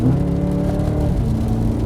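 A BMW E90 M3 with DCT gearbox and individual throttle bodies hums with a loud, steady engine and exhaust drone, a smooth continuous whir with a slight shift in pitch partway through.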